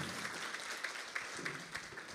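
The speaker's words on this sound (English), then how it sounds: "give her a round of applause if you would" Faint, steady clapping from a conference audience at an Indigenous clean energy forum, a dense patter of many hands that goes on evenly throughout.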